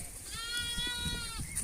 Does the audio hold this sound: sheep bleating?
yes